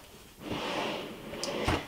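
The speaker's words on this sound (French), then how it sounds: "On passe au tiroir suivant." A drawer of a makeup storage unit slides open with a soft scraping rush and ends in a small knock, close and fairly quiet, with no talking.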